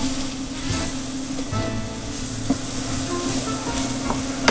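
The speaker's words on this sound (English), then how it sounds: "3 tablespoons of flour into there. And we'll just kind of stir that around." Three tablespoons of flour stirred and cooked in a pan over medium heat for a venison or beef stroganoff, with a continuous close sizzle and occasional light scrapes of the spoon.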